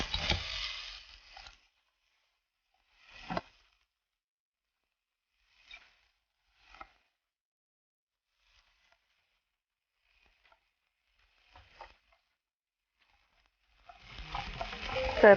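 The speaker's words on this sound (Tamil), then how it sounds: "கருவேப்பிலை வறுத்துட்டு இப்போ வந்து இந்த சோளத்தை உள்ள போட்டுக்கலாம்" Curry leaves and corn frying in a pan during tempering for chola sundal, with sharp bursts of sizzling and stirring at the start and end and scattered scrapes and clicks between quiet gaps.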